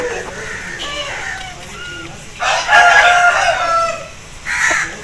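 Close, loud crowing from a lac-red lakha aseel rooster: softer clucking first, then a long strained crow, followed by a shorter burst.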